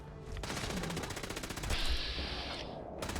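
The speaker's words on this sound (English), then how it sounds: "a Gatling gun, and I made sure to give him tons of ammo" A Gatling gun in Fallout 4's Far Harbor fires a continuous, rapid rattling burst of shots, loud and close, running without pause for several seconds.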